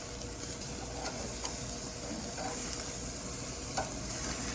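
Steaks sizzling on a smoker grate give a steady, even hiss with a few faint clicks as they are flipped, at moderate distance and fairly quiet.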